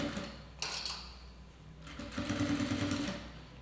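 A sewing machine stitches a shoulder bag in quick bursts of rapid mechanical clatter, with one short run near the start and a longer run later, separated by quieter pauses.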